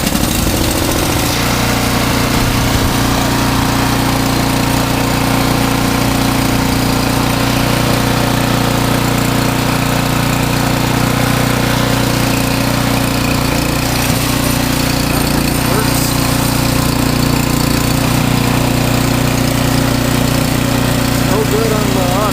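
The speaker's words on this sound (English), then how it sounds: "it should kick right over" A Craftsman snow blower engine runs continuously at a loud, steady rough drone close by, with a person speaking faintly beneath the noise.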